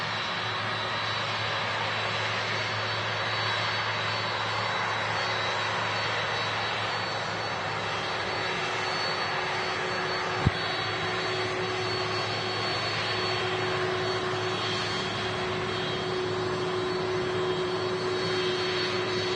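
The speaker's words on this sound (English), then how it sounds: "Let's have a look at this aircraft in its entirety. 767 without the winglets as well." Boeing 767 engines at Manchester Airport produce a steady, broad jet roar with a constant whine, heard from a distance and unchanging throughout, with one sharp brief click midway.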